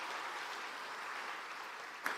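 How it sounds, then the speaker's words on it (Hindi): Steady applause from a seated audience of schoolgirls and guests at a rural awareness event for adolescent girls, a continuous even patter with a sharper clap near the end. "जरा ताली बजाए तो जोर से बजाएं"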